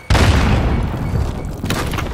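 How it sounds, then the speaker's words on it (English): A grenade explodes in Call of Duty: Modern Warfare with a loud, close boom, followed by a rumbling tail and a second burst of blasts near the end. "Grenade out."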